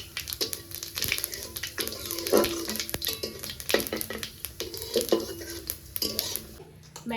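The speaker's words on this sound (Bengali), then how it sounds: "বেরেস্তা ভাজা তেলে এখন আমি দিয়ে দেবো জিরে আর তেজপাতা।" Whole cumin and bay leaves hit hot oil left from frying onions for biryani, giving a soft sizzle under busy clatter of metal utensils, pots and stirring knocks throughout.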